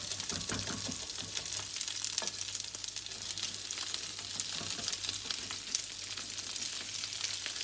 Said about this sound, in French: Les pommes de terre commencent à griller.